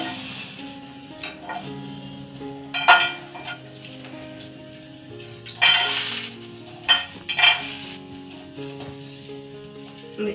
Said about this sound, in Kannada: ಇದಕ್ಕೆ ಸ್ವಲ್ಪ ಜೀರಿಗೆನೂ ಹಾಕೊಂಡು ಹುರ್ಕೋಬೇಕಾಗುತ್ತೆ